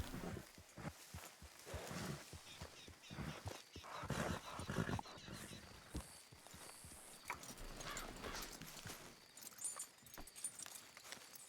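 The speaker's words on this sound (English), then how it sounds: "Oh, horses." Horses in a roleplay video game, with faint clip-clop hoofbeats and an occasional whinny over a busy, distant background.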